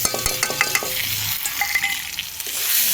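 Spices with turmeric, salt, green chili, ginger paste and dried red chili fry with dried fish in a pan, a close sizzle broken by repeated clinking, scraping stirs of a utensil against the metal.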